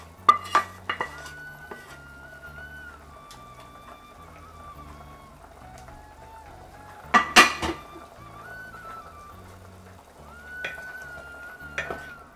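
Tempered onions being sautéed in a pot for Tamil Nadu-style mutton soup, heard as a low sizzle with a soft tone underneath. A few sharp metallic clatters of a spoon against the pot cut in, the loudest around the middle.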